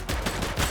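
Rapid bursts of gunfire from The Precinct, a police video game set during a street shootout, with two or three loud close volleys packed into under a second and no talk.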